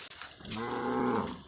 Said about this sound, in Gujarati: જો બીજા ગાવડા બામરવા પડ્યા